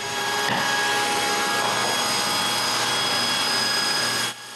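Power saw cutting plywood squares in a woodworking shop, a loud steady whine running for several seconds before cutting off abruptly at the end.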